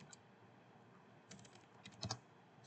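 Quiet keystrokes on a computer keyboard as someone types a command: a short isolated click, a pause, then a quick cluster of taps and a couple of firmer presses, faint against a soft room hiss.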